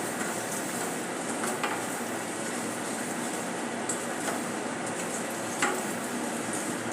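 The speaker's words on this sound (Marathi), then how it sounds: "आता हे सर्व मसाले आपण मिक्स करून घेऊया चांगले भाजून घ्यायचे आहे" Spices, including fennel powder, stirred and dry-roasted in a pan for a bitter gourd dish, giving a soft continuous sizzle and hiss with occasional faint scrapes and clicks of a spoon, and no talking.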